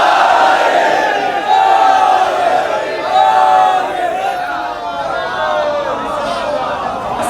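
A large crowd at a Shia religious gathering (majlis) chants a slogan in unison, loud and close, with rising and falling voiced calls in a repeating rhythm over a background of crowd noise.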